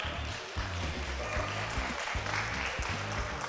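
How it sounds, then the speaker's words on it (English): Sustained audience applause at a latte art round of the Australian Coffee Championships, a dense steady wash of clapping that carries on without pause, fairly loud and close, with no voices rising above it. "Another big round of applause"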